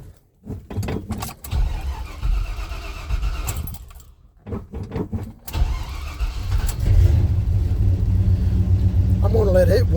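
A cold vehicle engine cranks over and catches after a jingle of keys, then settles into a steady, loud, low-pitched idle close by as it warms up, while someone talks nearby.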